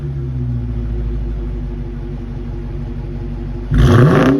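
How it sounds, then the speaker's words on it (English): A 2023 Dodge Challenger R/T T/A Edition idles with a low, lumpy V8 rumble before one sharp, loud rev near the end climbs quickly in pitch and then starts to fall away. "Awesome rev."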